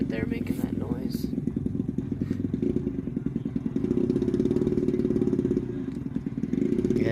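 A small RC model airplane engine buzzes steadily at a distance with a rough, mower-like drone, swelling slightly partway through while people talk over it.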